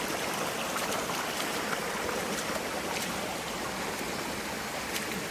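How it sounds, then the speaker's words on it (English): A mountain stream rushes and trickles along the Lulumahu Falls trail on Oahu, Hawaii, as a close, continuous broadband flow with small splashes throughout and no voices. "Let's cross the stream."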